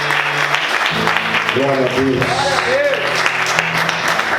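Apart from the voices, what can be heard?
congregation applauding in church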